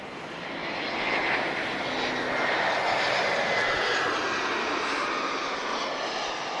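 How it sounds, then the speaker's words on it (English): An EasyJet Airbus A320 arriving from Madeira at Lisbon Airport makes a steady, broad jet-engine roar that swells slightly and holds loud and continuous throughout, with no voices. "this is EasyJet A320,"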